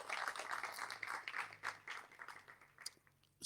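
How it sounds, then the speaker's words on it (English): Audience at a keynote event for Premier Dr. Zamani Saul breaks into applause, a soft, fairly distant patter of clapping that thins out toward the end. "give you as well a nice round of applause"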